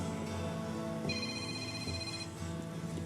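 A phone rings with a repeating electronic tone heard indoors, its bright pattern sounding in bursts over quiet background noise with no speech.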